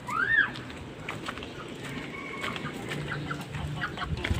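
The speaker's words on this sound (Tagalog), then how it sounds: "Ito ang manok na malatuba" Chickens cluck busily during feeding, with one sharp squawk at the start and scattered calls after it.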